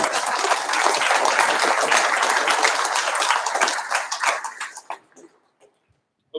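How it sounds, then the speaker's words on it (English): An audience at a junior yacht club awards gathering gives a dense round of applause that holds steady for several seconds, then thins to scattered claps and fades out. "let's give Al a round of applause."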